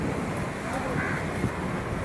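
Strong wind gusts blow across an open-air momo stall during a rainstorm, producing a continuous rushing roar of wind noise on the microphone while a person talks underneath.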